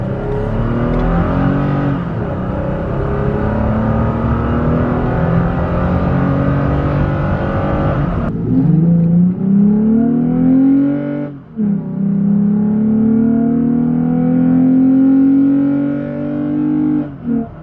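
A 2020 Toyota Tacoma fitted with a K&N cold air intake revs hard and loud up close, then drops off and climbs again in a second strong rev with a deep intake roar.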